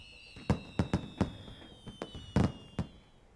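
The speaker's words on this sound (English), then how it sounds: "The night sky lights up with fireworks." Fireworks in the video game World End Syndrome, a series of sharp pops and bursts spaced irregularly over a steady tonal music bed, moderately loud and without speech.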